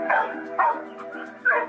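A frustrated dog gives three loud, evenly spaced yapping barks close by, each short and sharp with brief pauses between them.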